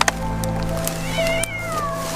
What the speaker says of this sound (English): Those are cats!